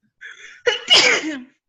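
A single close, loud human sneeze, with a short sharp intake of breath followed by an explosive burst that trails off quickly.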